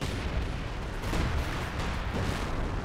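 A heavy, continuous rumbling barrage of explosions and gunfire as a mortar pit is destroyed in the World War II strategy game Company of Heroes 2, loud and dense with no talking.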